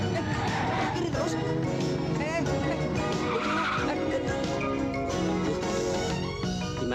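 A car skids and spins around in circles, tires squealing in sweeping whines over engine noise and music, with people's voices mixed in throughout.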